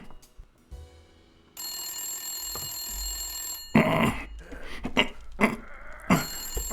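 A telephone rings in the detective adventure game Blacksad: Under the Skin, a steady bright electronic ring for a couple of seconds followed by bursts of game sounds and a voice talking.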